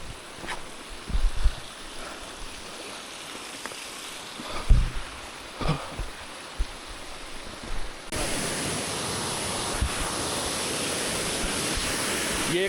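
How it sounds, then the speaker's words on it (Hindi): A mountain waterfall pours over fallen rocks on a Himalayan pilgrimage trail, a continuous broadband roar that swells louder and closer partway through, with occasional footsteps and knocks nearby. "ये झरना जा रहा है"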